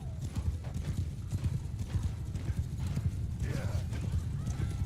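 Rapid, continuous clip-clop of galloping horse hooves while riding in Bannerlord, close and steady throughout, with a neigh and faint battle noise underneath.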